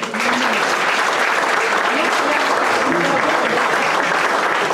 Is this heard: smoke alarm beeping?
no